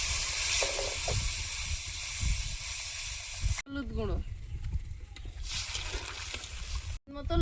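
Green chilies frying lightly in oil, giving a steady close hiss and sizzle broken by two abrupt cuts, with a voice talking over part of it.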